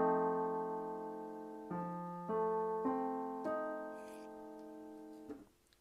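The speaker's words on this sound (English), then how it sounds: "Second one is dominant seven. It sounds like this." A dominant seventh chord sounds on piano, sustained then restruck in a few shifting voicings, each attack ringing and slowly fading, with no talking.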